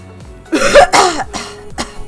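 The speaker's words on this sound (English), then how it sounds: "Sorry about all the coughing." Several harsh coughs and throat clearings from a single person, close and fairly loud, arriving in short bursts over about two seconds with brief gaps, with no talking.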